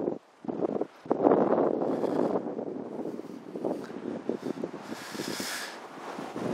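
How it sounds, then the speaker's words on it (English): Strong gusts of wind buffet the microphone outdoors on a windy day, a loud, uneven roar that swells and dips throughout, with a brief lull near the start. "It's a windy day."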